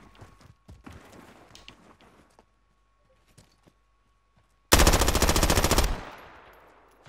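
Automatic weapon fire in Call of Duty Warzone: one loud, dense burst of rapid shots lasting about a second, ringing off afterward, following faint scattered clicks and quiet game noise.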